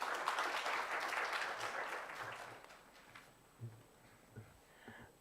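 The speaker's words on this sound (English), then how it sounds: "A round of applause for Dr. Sabala." Conference audience applauding Dr. Sabala, a dense round of clapping that starts loud and tapers off over a few seconds, leaving a quieter room with a few scattered thumps.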